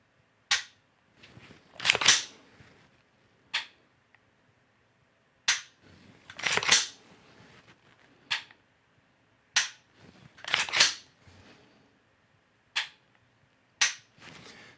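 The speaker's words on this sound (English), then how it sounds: "So we'll just take a couple nice slow aimed shots." A rifle fitted with a Mantis X10 sensor on the rail fires slow, deliberately spaced shots, about a dozen sharp loud cracks with short decays and pauses of a second or two between them.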